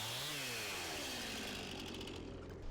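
Chainsaw cutting logs to lay into a pond dam, a loud, steady motor whine with a dip in pitch as the chain bites into the wood, heard up close with no talk.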